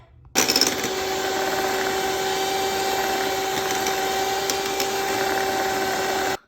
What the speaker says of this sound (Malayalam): ഡബിൾ ക്രീം ഒന്ന് അടിച്ചെടുക്കുവാണേ